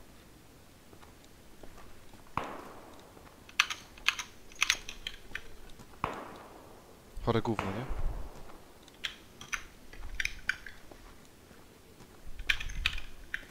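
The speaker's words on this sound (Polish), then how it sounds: "Przestań klikać tak głośno." Loud computer keyboard clicking during a squad match of PlayerUnknown's Battlegrounds comes as bursts of sharp, rapid keystrokes close to the mic, with people talking over some of them.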